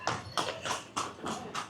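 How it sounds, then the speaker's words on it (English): A horse and cart clip-clops along a street in Kuta, Bali, at night, giving five distinct hoof strikes in a steady, moderately close rhythm with no talk over them. "Oh, the horse and cart."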